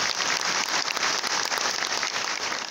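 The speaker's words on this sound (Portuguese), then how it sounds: "Mais uma salva de palmas para a nossa artista." Audience applause at a graduation ceremony honouring a youth orchestra, a steady wash of many hands clapping at moderate distance, continuous with no voices, ending abruptly.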